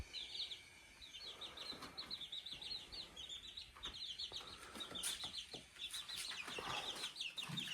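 Baby chicks, bought as homestead birds, peep in rapid high chirps with a few soft clucks. The chirping runs continuously at moderate distance over a rustling, scratchy background.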